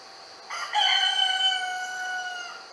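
A rooster crows once, a loud clear cock-a-doodle-doo from fairly close, sustained and ringing in a quiet setting.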